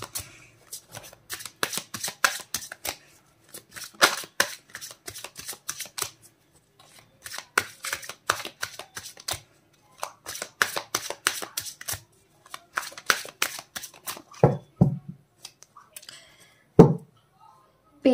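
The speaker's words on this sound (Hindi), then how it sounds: "मैं जब तक की कार्ड शफल कर रही हूं" A deck of tarot cards being shuffled by hand in repeated riffling runs of rapid crisp flicks, close and fairly quiet, with short pauses and a few soft taps between runs.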